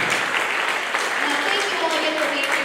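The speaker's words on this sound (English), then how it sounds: "Quick round of applause to Durban American for helping us take the success of this." An audience at a tourism marketing workshop claps in a fairly steady, moderately loud patter with faint voices mixed underneath, lasting a couple of seconds.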